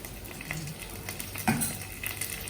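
Curry leaves and cumin sizzle softly in hot oil for a handvo tempering, a low steady crackle with a few small clinks and one sharper pop near the middle, with no talking.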